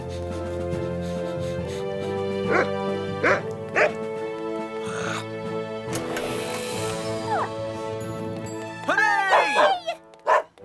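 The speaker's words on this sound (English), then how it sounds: "Clever dogs." Cartoon dogs from a children's fire rescue show bark in several short, sharp yaps scattered across a musical score, with a cluster of excited barks near the end.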